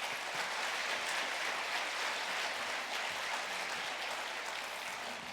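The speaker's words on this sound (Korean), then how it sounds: "우리 목사님 박수로 사랑합니다로 맞이하겠습니다" A church congregation at a revival meeting applauds to welcome the pastor, a steady, even wash of clapping from many hands that runs unbroken from start to finish at moderate volume, with no voices standing out.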